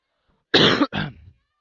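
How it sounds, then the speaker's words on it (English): Two quick, harsh coughs close up during a baseball playoff broadcast, the second trailing off, with silence before and after. "no worries for those who were concerned about the coughing"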